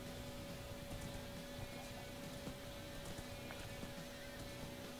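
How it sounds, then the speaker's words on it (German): Horses in the video game Minecraft clip-clop faintly as a soft, uneven patter of hoof taps over a steady background hiss. "Da sind noch mehr Pferde."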